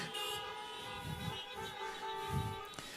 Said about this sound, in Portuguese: Agora você pode buzinar.